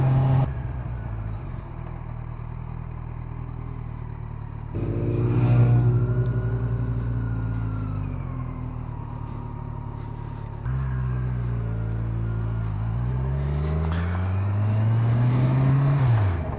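A car engine rumbles steadily, then swells as a vehicle drives past close by, followed by another accelerating pass with rising revs.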